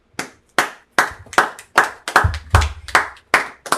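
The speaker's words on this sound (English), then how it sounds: "Clap it up for the brother." Hands clap in a steady, even rhythm at a Sabbath church service, about ten sharp claps close by, with a faint low thump under a few of them and no talk.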